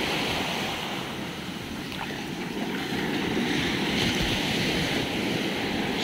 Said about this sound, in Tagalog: habang pinapanood yung mga hampas ng alon